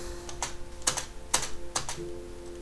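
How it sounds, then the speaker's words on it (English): A computer keyboard struck hard during play, giving several sharp, loud, uneven keystrokes close to the microphone over a faint steady hum. "Oh, I was really hitting the keyboard there,"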